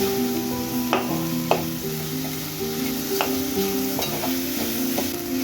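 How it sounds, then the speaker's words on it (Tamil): Tomatoes with ginger garlic paste fry in oil, a steady close sizzle broken by occasional spoon scrapes and knocks against the pan, with a soft tonal backdrop. "சேர்த்து அந்த தக்காளி நல்லா குழஞ்சி வர வரைக்கும் நல்லா வதக்கணும் அந்த எண்ணெயிலேயே"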